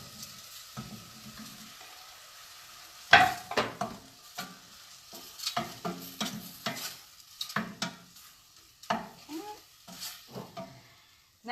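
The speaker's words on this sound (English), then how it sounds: "I've just sauteed that a little bit here, and I'm going to just throw the tofu in as well" Mushrooms and tofu sautéing in a pan, with soft sizzling and a series of irregular stirring scrapes and clinks that grow busier after a sharp knock, fairly close and without talk.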